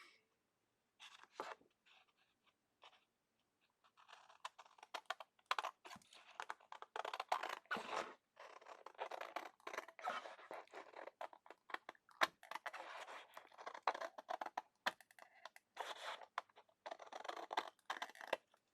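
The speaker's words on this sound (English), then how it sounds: "So now we're going to trim the excess off the back." Excess paper is trimmed off the back of a paper-craft calendar page, giving close, irregular snips, rustles and crinkles in scattered bursts, with quiet gaps between and no talking.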